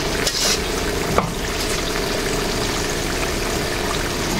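Sweet potato kamote cue frying with sugar in a pan, a dense, steady, loud sizzle up close with a couple of quick stirring clicks near the start.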